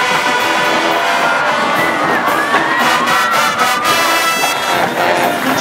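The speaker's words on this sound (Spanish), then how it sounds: "Escuchen ese fuerte aplauso." Loud crowd at a parade during the Cholula international band music festival roars and cheers for the Dragones Marching Band, with shouting voices and clapping blended into a continuous, close, saturated din.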